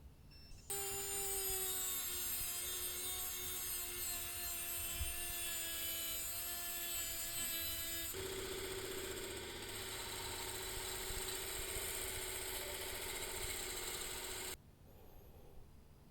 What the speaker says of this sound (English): Now I drilled the hole just a bit smaller than the new shaft